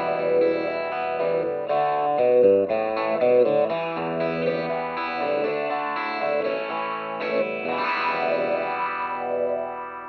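A Hornet WahWah effect in Tracktion T7 sweeps a sustained, distorted synth tone with automation, its filter rising and falling steadily in a continuous, moderately loud swell with no talking.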